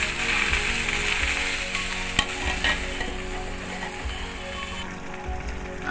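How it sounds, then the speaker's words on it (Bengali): Chopped bottle gourd and potato sizzle steadily in a hot pan over a raised flame for a Bengali jhol, with a spoon scraping and stirring through the pieces at close range and no talking. "আঁচ বাড়িয়ে আমি একটু ওই লাউ আর আলুটা নেড়ে দিলাম।"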